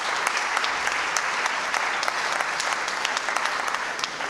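Steady applause from an audience, dense overlapping claps filling the whole stretch at an even, fairly loud level before easing slightly at the end.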